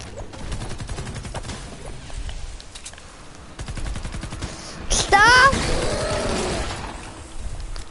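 Dragon gun in a shooting video game fires rapid bursts of gunfire in quick succession, with a sharp louder blast partway through, mixed with game effects and some talking.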